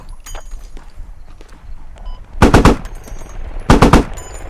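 Two loud bursts of automatic fire from an armored vehicle crewman's gun in Squad, each a rapid string of close, heavy shots, separated by quieter ambient rumble and faint clicks.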